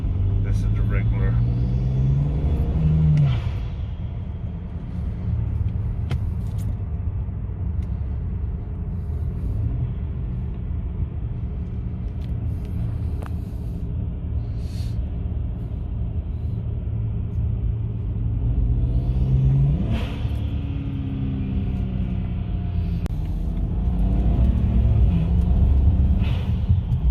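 A BMW 335xi in regular mode makes a steady low engine and exhaust rumble that swells twice as it revs and shifts. A voice talks over it throughout.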